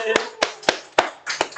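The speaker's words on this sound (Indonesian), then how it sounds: "Oh, tepuk tangan dulu." Audience at a broker seminar clapping hands, five or six distinct sharp claps spaced evenly across a short stretch, close and fairly quiet, with people talking underneath.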